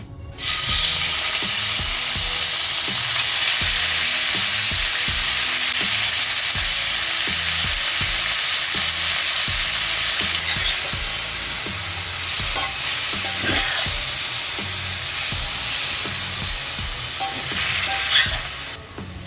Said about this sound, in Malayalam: ചിക്കൻ ചെറിയ ലോ ഫ്ലെയിമിലിട്ട് ചെറുതായിട്ടൊന്ന് ഫ്രൈ ചെയ്തെടുക്കണം.